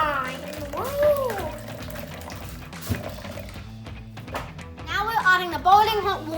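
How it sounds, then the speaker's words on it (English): Boiling hot water is poured into a bowl of jelly mix at home, a soft liquid splash running beneath excited children's chatter and voices throughout. "Adding the boiling hot water"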